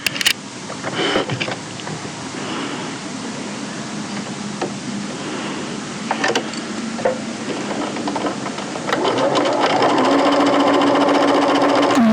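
A sewing machine stitches a bodice side seam and its facings, a steady continuous motor whir running close and loud for the whole stretch, rising to a faster, busier hum toward the end.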